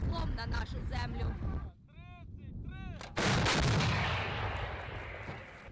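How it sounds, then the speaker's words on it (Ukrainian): An Italian FH70 155 mm howitzer fires in the field, loud booming blasts with rolling echoes, heavy outdoor rumble and wind, a brief lull between reports. "спостерігаємо за тим, як працюють хлопці з розрахунку гаубиці FH-70"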